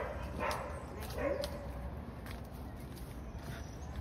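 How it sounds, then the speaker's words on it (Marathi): Dogs barking around a hillside village in Varazze, Italy, a few sharp barks and yips at middle distance over steady outdoor background hum. "कुत्री जाम भुकतन"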